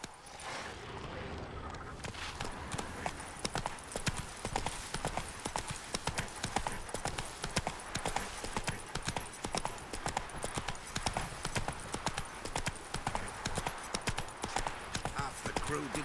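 Roach, the horse in The Witcher 3, gallops along with a fast, even clip-clop of hooves that runs through the whole stretch over game ambience, loud and close.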